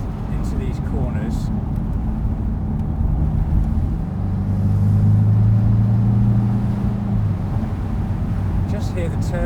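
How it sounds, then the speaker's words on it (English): Turbo spooling in a Porsche Boxster T while driving, a rising whine laid over a loud low engine drone and road rumble that builds through the middle, with people talking over it. "Just hear the turbo spooling up."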